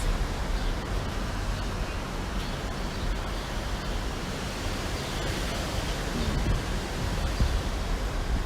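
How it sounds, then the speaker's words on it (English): Steady wind blows outdoors with a constant broadband rush and no pauses. "I hope y'all can hear the wind."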